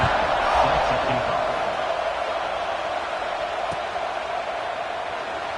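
A stadium crowd in the football video game Madden 26 keeps up a steady, broad roar after a scoring drive, loud and constant, with no one speaking over it.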